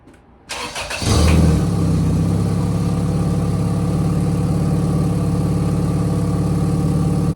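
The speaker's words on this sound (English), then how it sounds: "this is the full exhaust, and I'm going to run it" A Toyota Celica running a full exhaust cranks over and fires up, then settles into a loud, steady close-up idle for several seconds.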